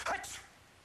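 One sharp sneeze bursts out close by, then quickly fades into a quiet room.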